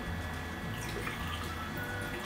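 Aquarium water poured by hand into a Bubble Magus QQ1 protein skimmer to cover the pump, a steady close splashing trickle with no talking.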